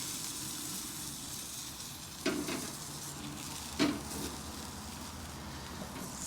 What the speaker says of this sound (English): It is perfectly okay to keep flipping it just like that so that you get a nice even sear.